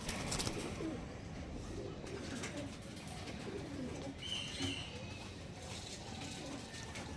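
Pigeons, Kaldoma line birds at a pigeon sale, coo softly at a distance under low background noise, with faint chirps scattered through the scene.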